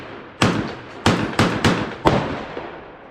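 Five sharp blasts from a Charles Daly Honcho tactical semi-auto shotgun loaded with 3-inch shells, fired at targets 25 yards away outdoors, spaced roughly half a second apart, each loud crack followed by a brief decaying tail.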